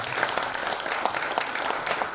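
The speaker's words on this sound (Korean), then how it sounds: "우리 조산음률의 공연단께 다시 한번 뜨거운 박수 부탁드리겠습니다" A crowd at a cultural center anniversary event applauds a performance troupe steadily, many hands clapping in a dense, continuous patter at moderate loudness and no break.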